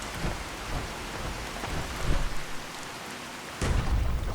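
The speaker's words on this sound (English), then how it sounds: "there's no way I could be able to fight this Deathclaw in this crazy rain" Steady heavy rain with rumbling thunder during a storm in Fallout 4, a constant hiss punctuated by low booms and a loud crack of thunder near the end.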